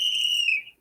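A single sharp whistle blast rings out alone, shrill and steady for well under a second before trailing off abruptly.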